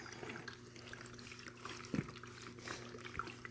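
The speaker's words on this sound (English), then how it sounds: "Miniature waterfalls." Miniature waterfalls give a soft, continuous trickle and splash of running water, with one brief louder drip or plop near the middle, close and steady with no talking.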